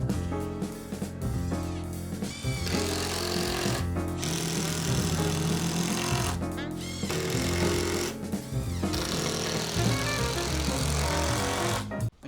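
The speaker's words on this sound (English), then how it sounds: "Time to get the drill." A power drill runs almost continuously while driving screws into a wooden bedroom workbench, a dense, loud whirring grind with brief pauses between bursts, close by and without talk.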